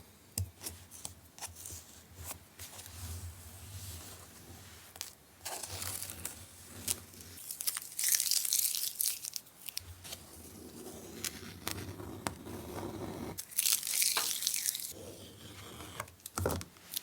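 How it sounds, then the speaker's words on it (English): Masking tape being peeled off paper during a marker drawing session, heard as intermittent rasping, tearing bursts up close, some longer and louder strips pulled near the middle and end, with quiet handling between. "It's time to remove the masking tape."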